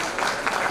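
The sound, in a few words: applause for Shabana ma'am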